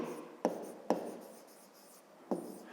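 A pen writes a math expression on paper for a fifth-grade arithmetic exercise, giving quiet scratchy strokes with three distinct sharp taps, close and soft, with no talking.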